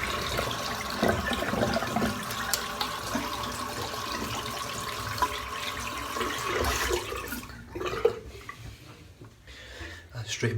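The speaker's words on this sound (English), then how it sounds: "Rinse off in the meantime." Tap water runs steadily while a safety razor, a Muhle R41, is rinsed off in a sink during a shave with Wholly Kaw Lav Sublime soap. The flow is close and continuous for about seven seconds, then cuts to quieter, sparse splashes.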